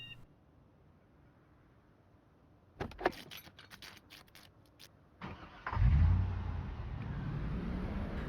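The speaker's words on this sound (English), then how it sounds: "I hotwire the ambulance right next to it." An ambulance in the Project Zomboid video game starts up after being hotwired: a short run of clicking and rattling, then the engine catches with a loud low rumble and settles into a steady idle.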